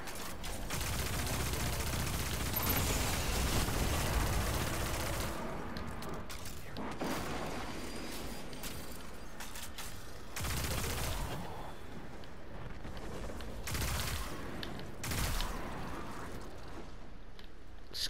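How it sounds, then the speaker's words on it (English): Sustained automatic gunfire from a machine gun in the sci-fi shooter game Destiny 2, loud and dense for the first few seconds, then breaking into shorter bursts and single shots with quieter gaps between. "Machine gun."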